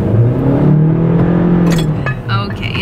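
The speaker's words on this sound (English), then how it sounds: "If you hear that, that's his truck." A big old truck's engine revs close by, a loud rising and falling drone that fades after about two seconds as people talk over it.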